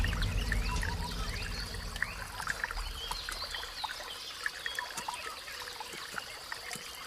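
Water trickles and flows gently and steadily with small splashy drips, faint and close, and a low rumble fades out early on.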